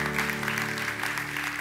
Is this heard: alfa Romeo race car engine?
no